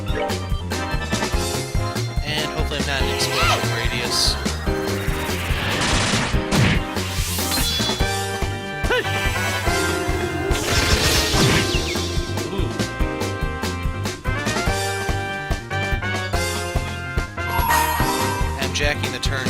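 Explosions and combat effects from the video game Legend of Heroes: Trails in the Sky, loud crashes and bursts layered over continuous game music throughout.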